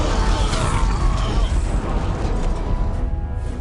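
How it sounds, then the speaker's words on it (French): A Titan's heavy cannon fires in a Warhammer 40K video game, a loud dense burst of rumbling blast noise that fills the clip and slowly thins out. "À mon ordre, faites tirer le canon du Titan."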